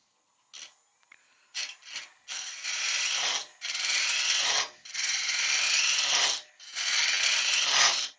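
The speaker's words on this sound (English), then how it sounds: "I'm just using a pull cut." Woodturning gouge makes a pull cut on a spinning wooden goblet, producing a steady rasping, scraping hiss in several long strokes separated by short pauses, close and fairly loud with no speech.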